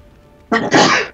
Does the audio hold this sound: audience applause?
no